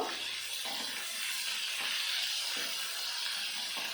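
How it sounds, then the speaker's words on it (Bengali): Bitter gourd frying in a pan with turmeric, giving a steady broad hiss and sizzle with faint soft clicks underneath, continuous and close, with no voices. "উচ্ছাটা আমি দু থেকে তিন মিনিট ভেজে নেব"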